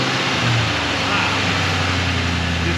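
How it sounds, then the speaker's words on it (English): A Ford Mustang GT with a 4.6 V8 after a tune-up with new plugs, catching and settling into a steady low idle with a firm, even rumble close by. "Let us restart into the engine. Beginning engine starting sequence now."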